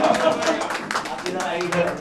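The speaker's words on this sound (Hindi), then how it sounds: "देखो जोरदार ताली बजाइए।" Crowd at a quiz event gives a round of loud clapping, steady and close, with a voice talking over it throughout.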